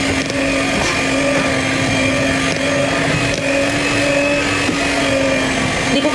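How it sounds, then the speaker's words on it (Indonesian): An electric hand mixer whirs steadily and loudly while flour is mixed into cake batter for an old-fashioned sponge cake, a continuous motor drone with no talk. "Kita masukkan tepung-tepungnya ini sambil kita mixer."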